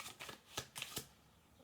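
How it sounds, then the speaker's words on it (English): Tarot cards are shuffled close up, a quick run of soft papery riffles and taps, faint and alone before falling quiet. "we're just going to do one more shuffle through"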